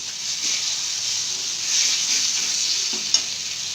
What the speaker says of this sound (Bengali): এটাকে ভালো করে পোড়া পোড়া করে ভেজে নেব